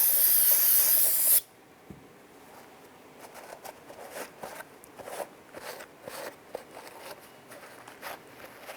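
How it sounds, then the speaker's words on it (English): A loud, hissing solvent spray on a Jeep Grand Cherokee 4.7L V8 exhaust manifold area blasts for about a second, then stops, followed by quieter scraping and handling noises. "give that a spray down with some solvent."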